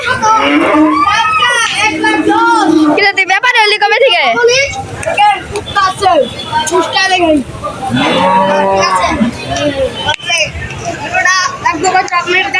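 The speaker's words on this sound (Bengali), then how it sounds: "তো এই যে দেখেন কত গরু" Cattle at a busy riverside cattle market, several loud, drawn-out moos close by, overlapping with excited talking and children's voices in a noisy crowd.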